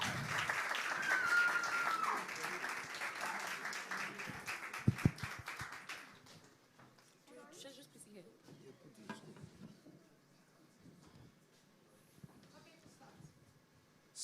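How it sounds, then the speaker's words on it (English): An audience at a children's debate competition applauds for the debaters, a dense clapping wash lasting several seconds before fading, followed by quieter room sounds and scattered knocks. "please give them a round of applause as they come together."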